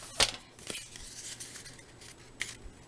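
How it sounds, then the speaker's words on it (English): Scissors cutting paper in half for scrapbooking, a few sharp snips and light clicks close up in a quiet room. "I'm going to cut this"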